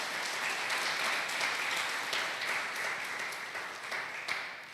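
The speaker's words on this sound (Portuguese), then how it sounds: "Pode aplaudir Jesus?" A church congregation applauding during a service, a fairly faint, continuous patter of many hands clapping that holds steady and tapers off toward the end.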